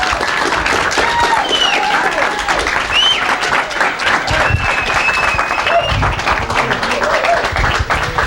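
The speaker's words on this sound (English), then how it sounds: "Please give a round of applause to Mr." A studio audience on a talk show gives a round of applause for a guest, sustained clapping filling the whole stretch at close range with scattered whistles and cheers over it.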